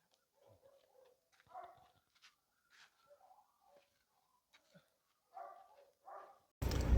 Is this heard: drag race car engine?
no